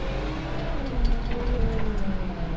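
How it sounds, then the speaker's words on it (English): Manitou telehandler scraping muck off a farm yard with its bucket: a continuous close diesel engine drone with a low rumbling scrape running under it, steady throughout. "I used the manatee with the bucket just to scrape all the muck up from the night before"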